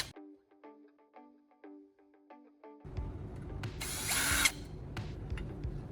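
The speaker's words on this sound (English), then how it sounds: "I'm taking a standard drill bit and trying to bore into this thick metal bar" Intermittent mechanical clicks and a brief whirring, then a power drill with a dull standard bit grinds loudly and strains steadily against a thick metal bar, slipping, ending with a high screech.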